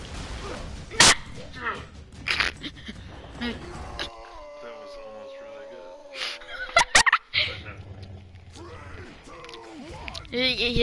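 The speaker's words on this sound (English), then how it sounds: "Chicken!" Chicken clucking and squawking close by in a busy outdoor moment, the bird's calls mixed with loud human voices talking and shouting and some clattering noises.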